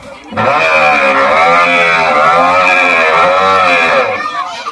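A loud, close human voice imitates a horse's whinny, one long sustained call with a wavering, vibrating pitch.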